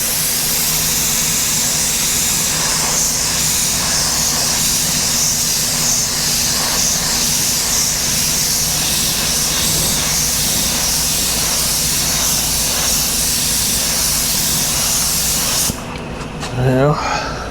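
Spray gun hissing steadily as clear coat goes onto a Mustang in a body shop, a loud continuous spray that runs unbroken before cutting off near the end, with a brief clatter afterward.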